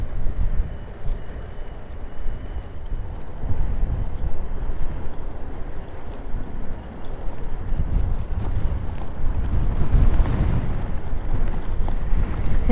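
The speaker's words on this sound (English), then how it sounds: "look how windy it is" Steady, heavy wind on San Francisco Bay buffeting the microphone with low rumbling gusts, over faint water and boat noise, continuous throughout.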